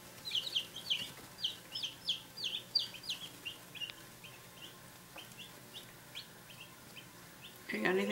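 Baby chicks cheep in quick high bursts while squabbling, a lively scatter of faint peeps that thins out over several seconds before a louder rustle at the end.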